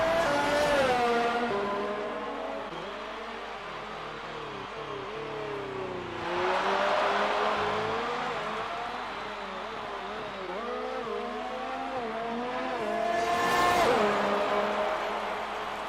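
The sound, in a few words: F1 race car driving into the pits, from a video game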